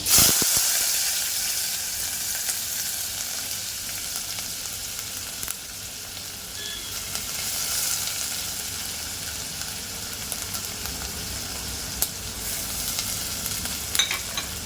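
Onions sauté in Amul butter in a pan for a chicken malai seekh gravy, giving a continuous close sizzle and hiss with a few faint clicks of stirring, no voices.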